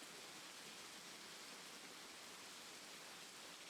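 Constant rainfall from a streaming overlay, an even wash of dense hiss that holds at the same level throughout.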